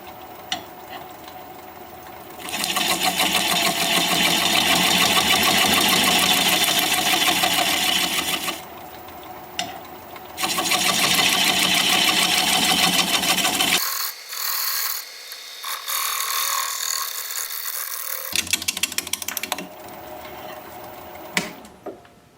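A wood lathe turns a hazelnut bowl at 400 RPM, with a loud, steady scraping hiss of the tool cutting the spinning wood. It breaks off briefly, resumes, then drops to near quiet with a few light taps before the cutting returns.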